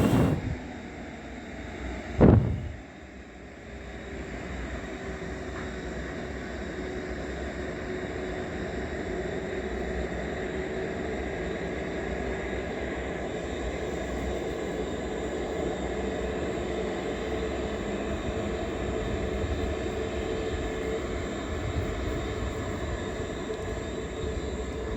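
A steady, broad airplane engine roar as the aircraft taxis, with a rumbling low end holding for the whole stretch, after a brief sharp thump near the start; no talking.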